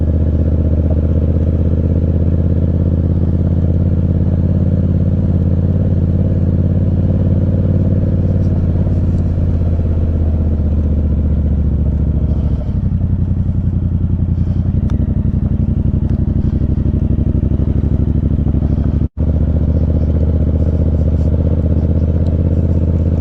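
Dirt bike engine running at a camping spot, a continuous close droning motor with shifting revs and rattling, lasting throughout with no voices.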